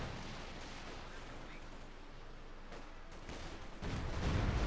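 Stuka rocket fire in the Company of Heroes 2 battle game: dense rumbling gunfire and blasts that build toward a heavier burst at the end.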